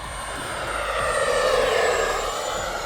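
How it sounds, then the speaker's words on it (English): A model airplane's engine screams through a full throttle pass, a steady high-pitched buzzing drone that swells slightly as the plane flies nearer, then eases off. "We'll do one more full throttle pass"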